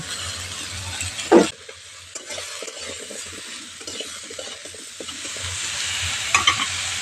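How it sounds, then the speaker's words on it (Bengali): Vegetables with salt and turmeric are stirred in a pan for chapor ghonto, a close frying hiss broken by sharp utensil scrapes near the start and a few clinks toward the end. "নুন দিয়ে খুব ভালো করে নাড়াচাড়া করে নিয়েছি"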